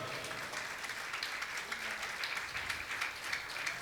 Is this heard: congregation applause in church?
yes